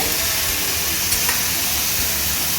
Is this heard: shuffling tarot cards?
no